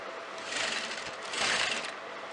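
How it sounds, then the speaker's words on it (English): A sewing machine runs in two short bursts while stitching piping fabric onto a kameez, close and soft, with no voices. "you're going to sew that with the piping fabric like this"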